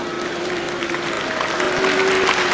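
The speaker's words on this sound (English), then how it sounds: "And some nice, polite, welcoming applause for the challenger." Polite welcoming applause in a boxing arena as challenger Johnny Bumphus enters to face Lloyd Honeyghan: a steady, moderate patter of clapping from the crowd, spread evenly and swelling slightly toward the end.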